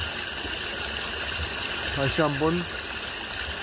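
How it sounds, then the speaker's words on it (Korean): A stream's water flows in a steady soft rush under a night sky, continuous in the background while someone speaks briefly over it. "물소리는 아주 정겹군요"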